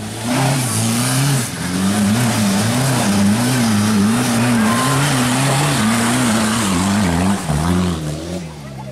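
Engine drone with a wavering high-pitched tire squeal, continuous and loud throughout, like a racing car sliding through corners, from a PS2 racing game.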